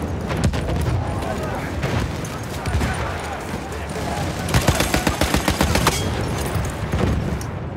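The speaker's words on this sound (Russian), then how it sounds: "Граната." Gunfire and explosions in the Battlefield 1 video game: dense bursts of rifle and machine-gun fire with a grenade blast, loud and continuous, a voice speaking over the battle.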